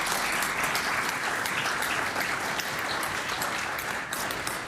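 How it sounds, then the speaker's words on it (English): A legislative chamber full of people applauds steadily during a House of Assembly sitting, a dense, sustained clapping that holds at an even level throughout. "And I ask the House to give Polly a warm round of applause."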